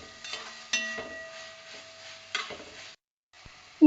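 Onions and tomato stirred in a bronze uruli while cooking a Kerala chicken roast, with a few scraping strokes and light, low sizzling, close by and without talk.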